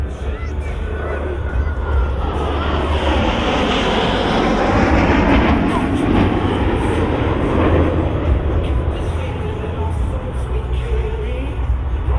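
Blue Angels jets make a loud, continuous, rushing roar that swells steadily as they approach the flight line at an air show, with no gaps.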